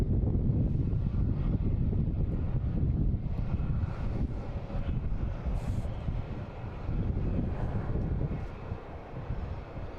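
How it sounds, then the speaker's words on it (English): Spirit Airlines jet departing Boston Logan International Airport, a steady, loud, broadband engine roar that holds for the full ten seconds with gusty wind noise on the microphone and no voices. "there goes that Spirit Airlines heading out of here"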